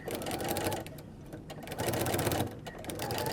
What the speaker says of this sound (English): I'm going to backstitch a couple times